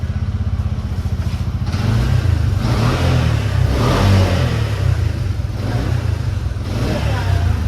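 A new auto rickshaw's engine revs loud and close, a steady mechanical throb that swells into a stronger, sustained rev after the first couple of seconds and holds there with slight rises and dips.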